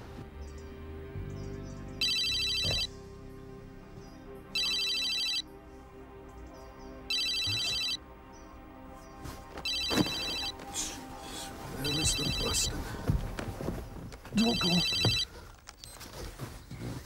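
Telephone rings in evenly spaced bursts, five or six rings with pauses between, over a quiet background that later fills with rustling and movement.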